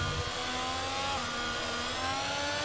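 Racing-car engine from F1 22 roaring steadily close by as a McLaren laps the player at the Dutch Grand Prix in wet weather, with a dense, continuous high-revving whine and no pauses.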